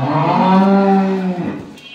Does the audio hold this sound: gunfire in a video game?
no